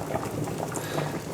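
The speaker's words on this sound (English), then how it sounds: "Now I've had mine boiling away for just over 5 minutes." Potatoes boiling in a pan of water for roast potatoes, a steady close bubbling and gurgling with no talk over it.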